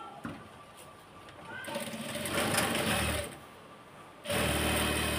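Sewing machine stitching a salwar, buzzing in bursts that speed up, then run in a fast steady whir, pause briefly and start again close by.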